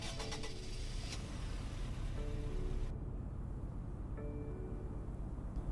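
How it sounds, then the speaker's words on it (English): Sir Rodgers Constellation car starting up in the Roblox game Greenville, a steady low engine drone with brief tonal chimes, heard close and alone. "Here's what it sounds like starting up."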